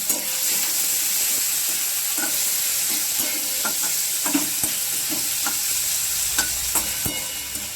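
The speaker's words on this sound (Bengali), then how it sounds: "চিংড়ি মাছের সঙ্গে ভেজে নেব পেঁয়াজগুলো।" Steady hot-oil sizzle of thinly sliced onions frying with shrimp in a kadai, continuous and close, with scattered scraping taps of a spatula stirring the pan.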